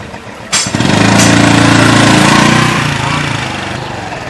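Honda Wave 110R motorcycle engine revving up hard from idle, a loud, close rising drone that holds steady and then eases slightly, with no talk over it.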